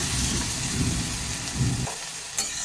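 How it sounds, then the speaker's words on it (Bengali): Tomato and green chilli paste stirred in a hot pan, a soft scraping and sizzling wash with a brief clatter near the end, close and steady with no voices. "এবার এটাকে ভালো করে নেড়ে চেড়ে দিচ্ছে"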